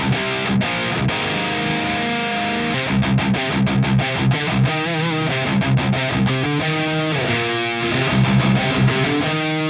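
Distorted high-gain rhythm electric guitar from a Le Crunch amp, recorded direct through a Two Notes Torpedo CAB M cab simulator, plays chugging palm-muted chords with sharp stops and staccato bursts, loud and upfront with no voice.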